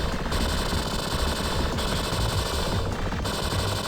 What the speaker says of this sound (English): Homing shot.